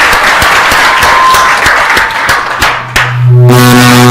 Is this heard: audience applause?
yes